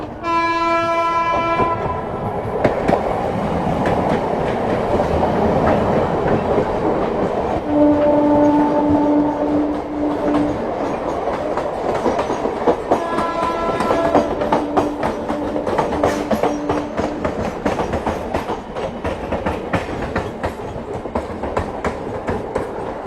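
A local commuter train rumbles past on a parallel track, its horn sounding in long steady blasts and wheels clattering at a continuous loud level throughout.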